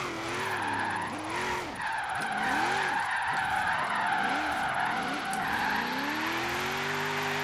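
A car drifts in Forza Horizon 3 with tires skidding and squealing in repeated wavering sweeps over a continuous engine drone, loud and sustained throughout.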